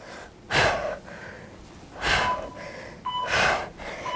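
Three heavy, forceful breaths after HIIT cardio exercise, each a loud rush of air, spaced about a second and a half apart with quieter panting between.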